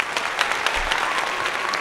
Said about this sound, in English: Let's give Mr. Dennis a big applause